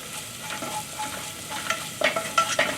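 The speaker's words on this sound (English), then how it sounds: "Once I start to see a little bit light brown and less sizzle sound" Food sizzles softly in a hot pan, a steady crackling hiss that grows a bit busier toward the end, with no talking.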